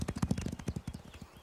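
Cartoon horses galloping, their hooves beating a quick, steady clip-clop that sounds close and clear, with the pace loosening slightly toward the end.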